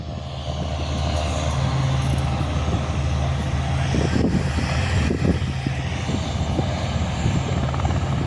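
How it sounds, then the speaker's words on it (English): A Diamond DA42 light twin-engine aircraft taxis out for takeoff at an airport on a windy day, its steady engine drone loud and near under gusting wind noise. "A Diamond DA42 taxiing out for takeoff."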